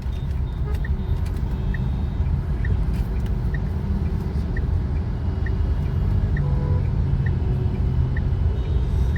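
A car pulls away from a traffic light on the road toward Chandigarh, with a steady low engine and traffic rumble throughout. Other vehicles run nearby and a faint regular ticking sounds over it.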